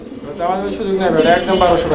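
A pair of Danish pigeons cooing up close, with soft, throaty, rolling calls repeating continuously over a couple of seconds.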